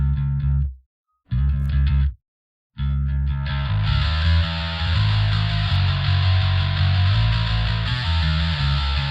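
Electric bass played through an amp simulator plugin, starting with short clean phrases broken by silent gaps, then continuing with an added airy, brighter top layered over sustained low notes.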